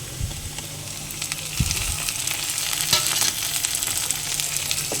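Chopped tomato sizzling and frying in hot oil as it is stirred in a pan for egg chapati, a steady loud crackle with scraping stirs and a sharper clatter near the start.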